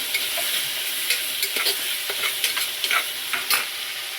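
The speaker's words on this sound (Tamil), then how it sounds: "கொஞ்சம் மிளகாத்தூள் சேர்த்துக்கலாம். நல்லா வதங்கட்டும்." Tomato sautéing with chili powder in a hot pan, a constant close sizzle broken by quick, repeated spatula scrapes and taps, with no voices.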